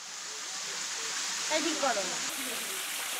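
Dharagiri waterfall, running low in winter, gives a steady broadband rush of falling water heard at moderate distance, with a person speaking briefly over the constant flow.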